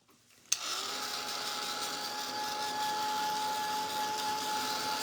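A hair dryer switches on abruptly and runs steadily, blowing to dry paint on a candy corn gingerbread, a constant close whir with no talk.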